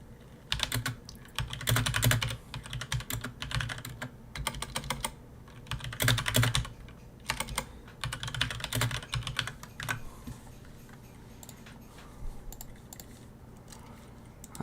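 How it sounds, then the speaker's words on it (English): Computer keyboard typing comes in bursts of rapid, close key clicks separated by short pauses, busier early and thinning toward the end, with no talking. "I know you guys are just going to hear typing for right now."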